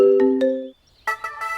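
An incoming-call phone ringtone in a Telugu romantic film plays alone as a melodic electronic tune of sustained and repeated tones, drops to near silence, then resumes with a brighter chiming pattern, fairly loud and close.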